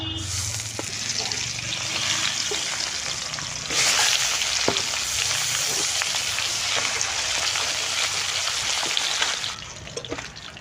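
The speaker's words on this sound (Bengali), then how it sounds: "4টে মাছও ভেজে নেব।" Four more tangra fish sizzle and crackle in hot oil, a loud continuous frying hiss up close that swells sharply midway as they hit the pan.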